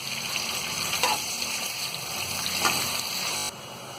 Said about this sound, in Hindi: तो इसे हम फ्राई करके जब ये अच्छी गोल्डन ब्राउन हो जाएगी तो हम इसे निकाल लेंगे।